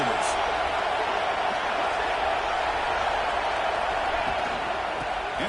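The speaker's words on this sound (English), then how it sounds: "Listen to the crowd energy here in the early going." A stadium crowd in an American football video game makes a continuous, dense roar of cheering that stays steady and loud from start to finish.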